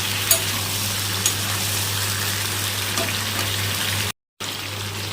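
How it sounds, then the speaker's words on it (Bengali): Ridge gourd frying with a little turmeric in a pan, giving a steady, even sizzle with faint soft clinks, nearly unbroken apart from a brief cut near the end. "যতক্ষণ ঝিঙা ভাজা হচ্ছে"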